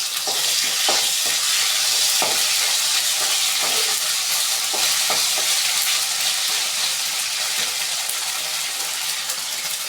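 Ginger garlic paste fries in hot oil for kovakkai poriyal, a loud, continuous close-up sizzle with faint stirring scrapes underneath.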